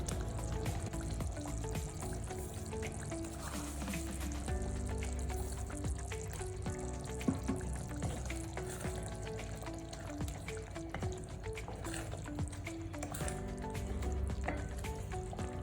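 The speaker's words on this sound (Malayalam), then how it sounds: "ഇവിടെ നല്ലതുപോലെ തിളച്ചിട്ടുണ്ട്" A spice paste for raw mango pickle bubbles in a pan, a soft, continuous simmering and frying hiss with faint gurgles throughout, steady and low, with no talking.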